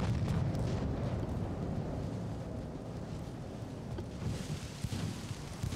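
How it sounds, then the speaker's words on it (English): Warship secondary guns firing in the naval battle game Ultimate Admiral: Dreadnoughts, a dense continuous rumble of gunfire and explosions with a few sharper bursts near the end, loud and without talk. "I think they were probably secondary guns"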